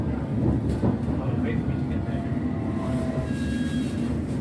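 A London Underground train is heard as a steady low rumble and rolling rail noise throughout, with faint whining tones rising near the end, moderately loud and continuous.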